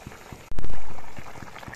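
Water boils vigorously in a pot for fish curry, a steady bubbling hiss jumping to a sudden loud rush partway through, then settling back while staying close and continuous.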